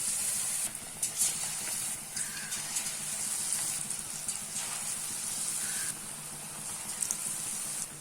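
Slices of bread bajji fry in hot oil in a kadai, giving a steady close sizzle and hiss with small bubbling crackles and occasional bursts, no voices.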